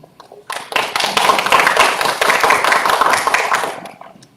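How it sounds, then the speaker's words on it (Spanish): An audience at a scientific talk on flood mapping breaks into applause, a dense burst of clapping that swells quickly, holds steady for about three seconds, then tapers off. "Lo recibimos con fuertes aplausos, por favor."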